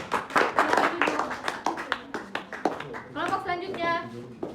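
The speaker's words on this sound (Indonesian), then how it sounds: "Tepuk tangan semua." A high school class claps briefly in a classroom during a microteaching lesson, a scattered burst of hand claps mixed with talking, followed by speech.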